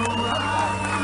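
Crowd cheering and applauding for contestants at a Colombian town beauty pageant crowning the Danza de la Chicha queen, a dense steady roar of whoops and claps filling the short moment.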